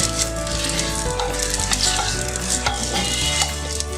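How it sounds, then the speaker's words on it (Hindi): Chopped onions fry in hot oil until brown for a chicken matka biryani, giving a loud, steady, crackling sizzle that carries on without a break and has no talk over it. "प्याज डाल दिया, प्याज को हमने जो है वो ब्राउन करना है।"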